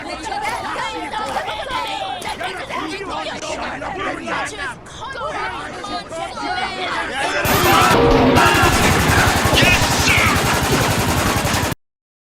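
Dense automatic weapon fire from a video game battle scene, rising into a loud sustained burst of rapid shots in the second half, layered over crowd-like babble and shouting voices.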